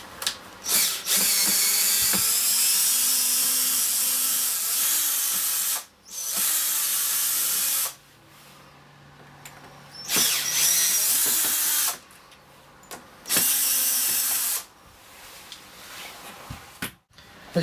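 A power drill bores out rivets on a hinge in several loud, sustained bursts of a few seconds each, whining at high speed, separated by short pauses and clicks of the tool being handled.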